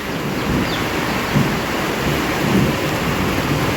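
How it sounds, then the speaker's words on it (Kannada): Steady, loud rain of the year's first spring storm falls around an outdoor spot near trees, with deep thunder rumbling continuously underneath and swelling in brief surges. "ಮಳೆ ಸೌಂಡು, ಗುಡುಗಿನ ಸೌಂಡು."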